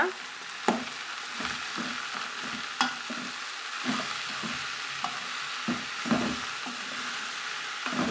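Black nightshade greens and onions stir-fried in oil in a pan, a steady sizzle broken by repeated scraping and stirring clacks at an uneven pace, close and fairly loud with no talking.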